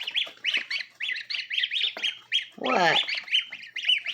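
Young waterfowl being raised indoors call noisily up close, a rapid run of sharp honking peeps with one longer, louder squawk in the middle, while a person briefly speaks over them.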